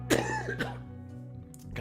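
Two quick, rough coughs close to the microphone, followed by a brief quiet stretch with a low background hum.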